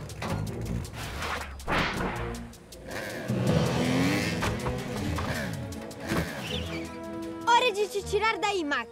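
A cartoon vehicle engine revs and accelerates in an animated rescue scene, rising motor whine with clunks and effects, while characters speak over it and music comes in near the end.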